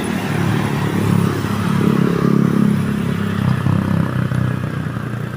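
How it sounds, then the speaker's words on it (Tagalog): Motorcycles speeding past on a road, engines rising and fading in a close, loud rumbling drone with some clatter, no one speaking. "Grabe yung motor ngayon, daming paspasan ng motor."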